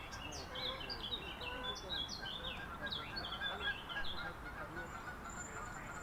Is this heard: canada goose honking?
yes